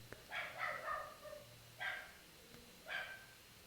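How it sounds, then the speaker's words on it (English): Dogs bark outdoors in Mexico, three short bursts of barking spread across a few seconds, fairly faint and distant against a quiet background. "like dogs barking"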